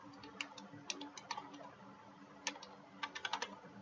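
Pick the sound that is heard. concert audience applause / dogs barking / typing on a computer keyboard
typing on a computer keyboard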